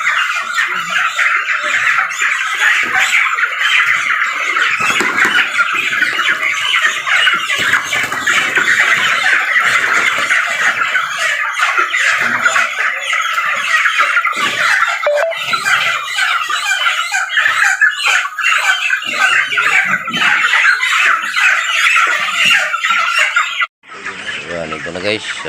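Dense chorus of chicks squawking and peeping nonstop, loud and close, a crowded flock of young chickens raised for harvest, with some clucking mixed in before it cuts off abruptly near the end.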